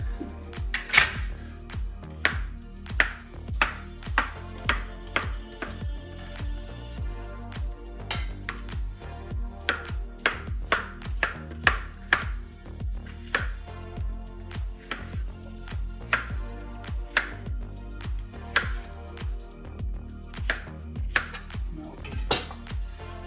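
Knife trimming and chopping a courgette on a cutting board in a home kitchen, with a steady run of close, sharp taps and clinks against the board and occasional utensil clatter, no talking.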